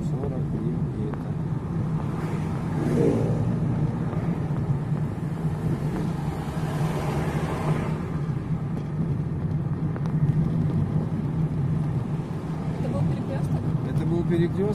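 A driving-school car rolls along a street in Khabarovsk. A constant low engine and road rumble fills the cabin, with people talking over it throughout.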